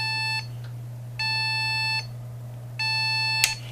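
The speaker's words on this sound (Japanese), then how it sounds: "3階のビープ音" Three long electronic beeps from a motherboard speaker signalling a memory error, evenly spaced, shrill and steady, over a low electrical hum, followed by a faint click.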